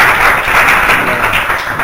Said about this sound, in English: request you to carry out with loud applause